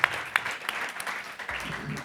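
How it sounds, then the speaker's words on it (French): Brief applause from a conference audience welcoming a paediatrician to the stage, a dense wash of hand claps with a few sharper claps standing out, steady and moderately loud. "Nicole Pello, on vous applaudit également"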